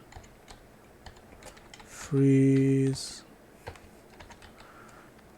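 Typing on a computer keyboard while setting up Python packaging, with scattered key taps around a longer sustained tone in the middle, and a brief spoken word.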